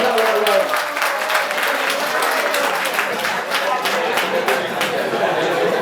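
A college audience at a road safety awareness event bursts into loud, sustained applause, dense clapping that holds steady throughout, with crowd chatter mixed underneath.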